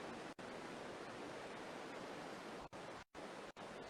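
Waterfall and stream water rush steadily through the narrow Aareschlucht gorge as a loud, continuous broadband roar, with a few brief dropouts.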